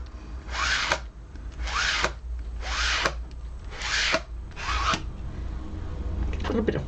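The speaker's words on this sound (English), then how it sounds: "I'm just going to kind of scrape it off into my thing here, have a clean card, and just go over it" A card scrapes excess Odicoat waterproofing coating off fabric in five rhythmic, close, rasping strokes, each about half a second long, followed by a softer final pass.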